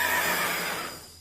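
A whinny from a game creature called a death horse or ice horse, one bright, strained neigh lasting about a second and fading out at the end, heard alone.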